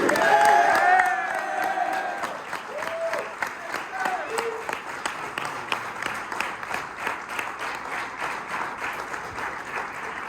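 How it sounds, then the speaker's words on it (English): Banquet audience gives a big round of applause for the team MVP, steady clapping and some cheering for about ten seconds, with a voice briefly speaking early on and fainter talk in the background. "everyone's going to give you a big round of applause right now"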